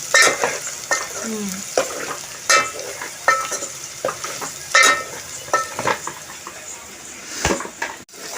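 Onions sizzle as they are tempered in hot oil for a whole-onion curry, a crackling fry broken by repeated scraping stirs and pan clinks, with brief voices now and then.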